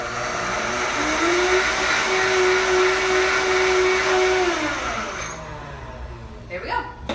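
A kitchen blender grinds oats into flour, a loud steady whir that holds for several seconds before winding down, with a voice faintly audible over the motor.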